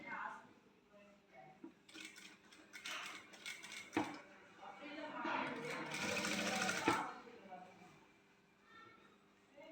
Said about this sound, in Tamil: இப்போ இதை ஒரு ஸ்டிச் போட போகிறேன்.